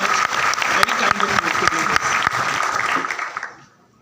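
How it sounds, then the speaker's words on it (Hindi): Audience applause at a webinar held at IIITD, dense steady clapping from a crowd that holds for about three and a half seconds, then quickly dies away to quiet. "तालियां जोर से"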